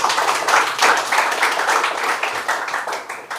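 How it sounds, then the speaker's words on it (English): Applause from an audience at a Grade 9 mathematics class debate, honouring the opposition team: steady, dense clapping from a room of students that holds even and fairly loud for a few seconds, with no talk on top. "give them a round of applause"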